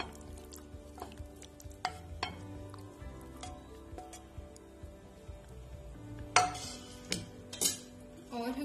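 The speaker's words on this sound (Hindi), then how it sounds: "और इसे हम अच्छे से मिक्स कर देंगे।" Pesto pasta is tossed and stirred in a pan with the flame off, giving soft scraping and stirring under faint background hum, with occasional light clinks of utensil against metal.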